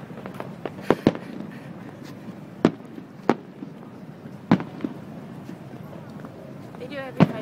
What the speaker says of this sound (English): It's Friday night fireworks or something like that.